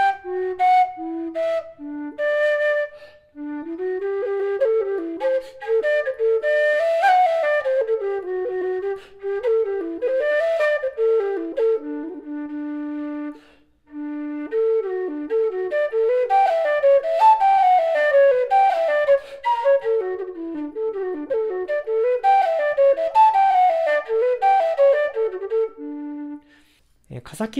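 A Sheep low whistle with a straight mouthpiece and straight-cut edge plays a continuous flowing melody alone for nearly half a minute, its thin tone carrying a slight breathy, airy noise.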